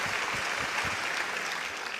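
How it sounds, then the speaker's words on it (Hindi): Loud, continuous applause from a studio audience at a business interview show, dense and even, with a few heavier claps standing out early on. "जोरदार तालियां"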